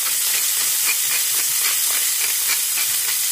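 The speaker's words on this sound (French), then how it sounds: "Pendant que mes champignons cuisent" Mushrooms sizzle in a pan as they brown with pepper and crushed coriander seed, a steady close hiss with soft crackling pops throughout and no talk.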